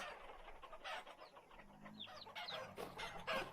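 Chickens cluck and chatter in a coop in the Vintage Story video game, several birds calling in quick overlapping bursts over a soft, steady background, moderately faint.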